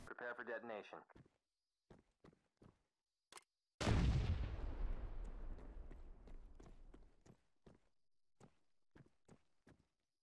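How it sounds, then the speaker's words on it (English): A breaching charge detonates in ArmA 3, one loud, close blast with a long rumbling decay after a few seconds of scattered footsteps and a short voice, followed by more sparse steps. "Let's just get a charge on that. Prepare for detonation."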